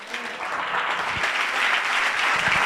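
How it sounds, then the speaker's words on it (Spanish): Sustained audience applause at a church missions gathering, a dense steady clapping wash holding at even loudness throughout, fairly close and with no voices over it. "Más fuerte el aplauso"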